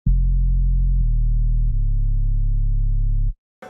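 A solid, clean synth sub bass holds three long, deep, smooth notes in succession, loud and alone, before cutting off abruptly into silence.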